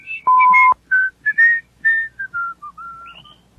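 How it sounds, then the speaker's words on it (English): A man whistles a merry tune alone and close: a long held note, then a string of short, bright, bouncing notes gliding up and down. "whistling a merry tune."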